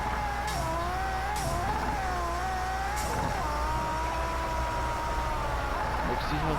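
A race car in Project Cars 3 driving fast, its engine holding a steady high whine with slight pitch wobbles and a few brief sharper transients, continuous and loud throughout.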